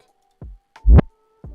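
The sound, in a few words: reversed kick drum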